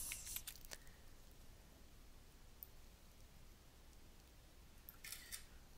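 A computer's camera-shutter effect sounds as a screen capture is saved to the desktop. It is a faint, brief click-and-rustle burst near the start and another near the end, heard over quiet room hiss, with no one talking.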